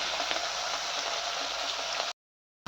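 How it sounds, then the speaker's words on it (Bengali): Small fish sizzling as they fry in a pan in a Bengali home kitchen, a steady dense crackle and hiss, close and constant, cutting off abruptly near the end. "এখানে মা মাছগুলো ভেজে নিচ্ছে।"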